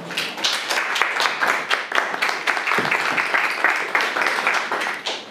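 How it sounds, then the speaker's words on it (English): Audience at a youth development event gives a sustained round of applause, dense steady clapping filling the whole stretch with no talk over it. "giving a round of applause"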